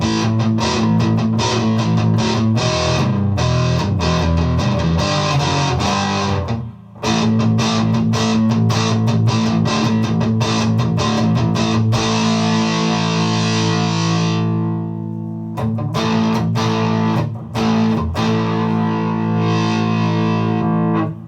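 Electric guitar played through Boss ME-90 distortion, a thick saturated tone chugging in steady riffs with brief breaks, loud and close with no talking.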